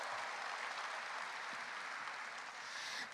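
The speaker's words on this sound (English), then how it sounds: "it deserves a round of applause" A crowd applauds steadily at an International Youth Day event in Kigali honoring the Giants of Africa foundation's 20 years, a dense, even wash of clapping that holds throughout.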